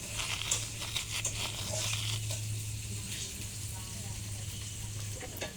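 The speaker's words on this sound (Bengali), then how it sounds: "কালো জিরে দিয়ে একটু ঘষে দেব।" Hands rubbing flour with salt and nigella seeds while mixing nimki dough, a steady dry gritty crinkling and rustling that runs throughout at moderate, close volume.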